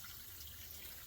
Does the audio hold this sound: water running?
yes